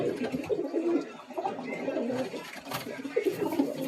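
Pigeons from a Kolkata bloodline flock coo continuously at close range, a dense overlapping murmur of soft throaty calls with no talking.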